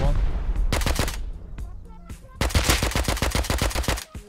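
Rapid bursts of gunfire in the survival game Rust, a quick volley of sharp shots, a brief pause with a few single shots, then a longer fast-firing burst, loud and close.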